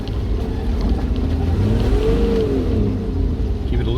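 A 4WD vehicle drives in second gear off-road, its engine a steady low rumble and drone, heard from inside the cab throughout with no talking.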